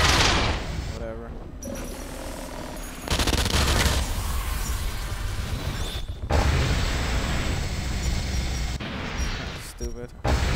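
Rapid gunfire and explosions in the video game Hybrid during a team deathmatch, dense loud bursts of shooting with booming blasts, broken by short quiet gaps, with a voice talking over the action at times.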